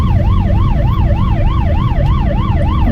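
A loud Polish ambulance siren wails steadily up and down in a fast repeating cycle, close by and constant throughout as it speeds through traffic.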